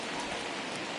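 Rain falls during a baseball video game game, a brief, even hiss of steady rainfall at a moderate level with no voices.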